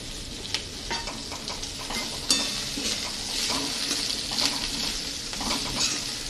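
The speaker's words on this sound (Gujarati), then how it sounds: "ગાજરની ચિપ્સ પણ તેમાં નાખશું" Carrot chips and mixed vegetables for spring roll filling are stir-fried in a pan, a steady close sizzle broken by scraping spatula strokes and a sharp clack against the pan, with no talk.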